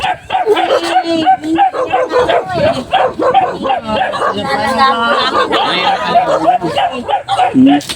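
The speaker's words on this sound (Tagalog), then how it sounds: "dito tayo na kasi maingay yung mga aso" Several dogs bark and yip repeatedly nearby, with whimpers mixed in, while people talk over the noise.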